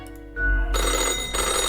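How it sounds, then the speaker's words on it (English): An old-fashioned telephone in the video game Death and Taxes rings with a loud, continuous metallic bell clatter that starts abruptly and holds steady. "The old-fashioned phone suddenly rings an ear-piercing metallic clatter."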